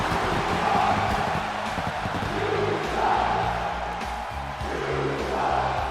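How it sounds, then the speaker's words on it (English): A wrestling arena crowd in WWE 2K23, rising and falling in waves of rhythmic chanting and cheering, loud and sustained at a distance. "How much money you want to bet the crowd chanting that about Booker T?"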